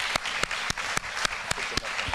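A keynote audience applauds in a steady wash of clapping, with sharper claps landing at an even, rhythmic beat, near and fairly loud, with no voices.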